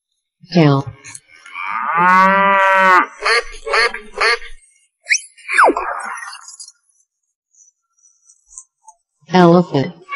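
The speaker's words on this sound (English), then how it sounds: "Cow." A cartoon cow gives a long, loud, low moo close by, followed by shorter vocal bursts, a quiet gap, and a final short moo at the end.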